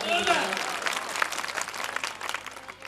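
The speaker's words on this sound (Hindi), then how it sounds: "उसके लिए एक बार ताली बजा दो" Audience at a Bahujan poetry gathering in Jahangirabad, Bulandshahr, claps for the poet's wife, a dense burst of applause following a brief voice at the start, holding steady for a few seconds.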